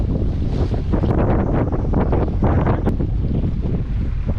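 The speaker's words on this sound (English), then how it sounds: "A little windy." Strong gusty wind buffets the microphone continuously on Pigeon Lake in Canada, a loud low roar with occasional splashy bursts out on open water.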